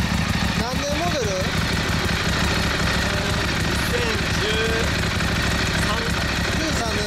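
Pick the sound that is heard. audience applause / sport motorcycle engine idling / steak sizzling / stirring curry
sport motorcycle engine idling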